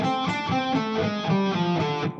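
Electric guitar in drop D tuning running a blues scale with the added blue note, a quick stream of single notes played steadily and alone, fairly close.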